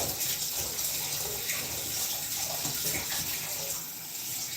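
Hot water runs steadily from a kitchen tap into a sink, a continuous broad rushing splash heard close and fairly loud, with no talking over it.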